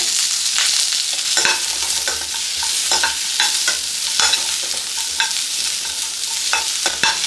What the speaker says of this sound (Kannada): ಒಂದು 3-4 ಈರುಳ್ಳಿನ ಮೀಡಿಯಮ್ ಸೈಜಾಗಿ ಕಟ್ ಮಾಡ್ಕೊಂಡಿರೋದು ಇದನ್ನು ಹಾಕೊಳ್ಳೋಣ. ಇದನ್ನು ಕೂಡ ಫ್ರೈ ಮಾಡ್ಕೊಳ್ಳೋಣ.